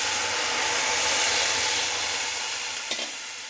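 Water poured into a hot pan of lightly roasted moong dal gives a loud, steady hiss with a brief sharp splash near the end, and no voices.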